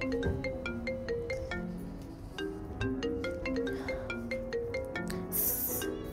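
A mobile phone rings with an incoming call in an indoor TV drama scene: a bright electronic melody of quick repeated tones plays steadily for several seconds at moderate level, with no one speaking over it.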